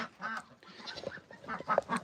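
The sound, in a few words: chickens and roosters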